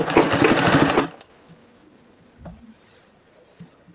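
Sewing machine stitching a frilled frock, a loud rapid run of needle strokes for about a second, then stopping, followed by faint handling noises.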